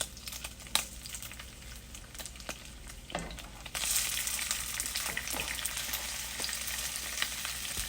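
Potatoes and onions sizzle in a pan with a steady, quiet frying hiss that grows louder partway through, punctuated by occasional soft clicks and scrapes.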